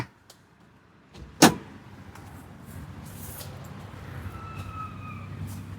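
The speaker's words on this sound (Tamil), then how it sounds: "இன்ஜினை ஸ்டார்ட் பண்ணி காட்டுறான்" A 2009 Hyundai Santro with an LPG gas kit starting up: a sharp click and crank, then the engine settles into a steady, low idle rumble nearby, with no talking.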